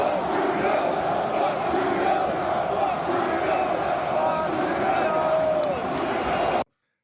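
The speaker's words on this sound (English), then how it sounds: "Let's hear the crowd at the UFC." Dense crowd noise at a UFC event, a steady roar of many voices with shouted chanting swelling throughout, loud and continuous before cutting off abruptly near the end.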